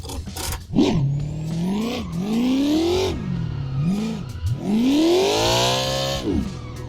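A car engine revs hard and surges repeatedly while drifting in the Assetto Corsa racing game, loud and close, with rising and falling pitch sweeps as the throttle is feathered and brief tire squeal.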